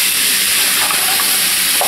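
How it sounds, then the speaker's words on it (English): Ground sirloin browns in a pan with a steady, close sizzle and occasional stirring scrapes. No one talks. "now we just have to brown this up"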